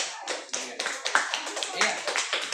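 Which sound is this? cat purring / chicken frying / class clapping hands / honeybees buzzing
class clapping hands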